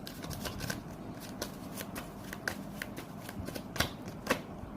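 Tarot cards are shuffled and drawn close by: a quiet run of crisp riffling flicks and soft slaps at irregular intervals, with no talking.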